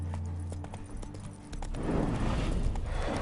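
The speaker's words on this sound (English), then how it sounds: "Spooking my horse." Horse hooves clip-clopping in The Witcher 3, a steady close trot that grows louder and busier partway through as the mount is spooked by ghosts, with no talking.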